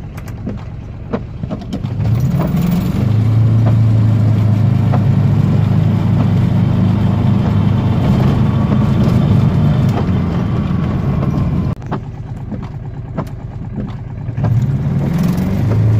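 A 2017 Aixam Crossover microcar drones loudly while driving, its small engine holding a steady, buzzy low hum that drops briefly, then picks back up, heard from inside the cabin.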